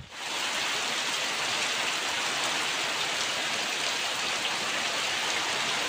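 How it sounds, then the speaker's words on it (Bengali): Heavy pre-monsoon rain pours over Rangunia in Chattogram, Bangladesh, a dense, steady hiss of downpour that stays even and unbroken from start to finish. "গত 2 মে রাত আনুমানিক 3টা থেকে চট্টগ্রামের রাঙ্গুনিয়া সহ বিভিন্ন উপজেলায় বৃষ্টিপাত হচ্ছে, কখনো মুষলধারে,"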